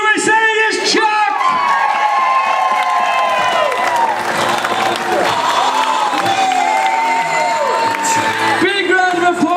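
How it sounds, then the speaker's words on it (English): Passengers aboard the Serenade of the Seas cruise ship cheer, whoop and applaud the belly flop competition winner, a loud, dense roar of voices and clapping that holds steady throughout, with an announcer's amplified voice cutting in. "Big round of applause for all our competitors."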